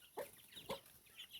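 A chicken clucks close by in a home kitchen setting, giving a few short, soft clucks spaced through a brief, quiet stretch with no talk.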